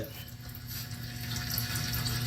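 Transmission fluid from a bottle pours steadily through a funnel into a Ford DPS6 transmission, a continuous liquid trickle that grows slightly louder toward the end.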